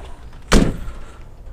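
A truck door slams shut once, a sharp close thud with a brief rattle, against quiet outdoor background at a loading site.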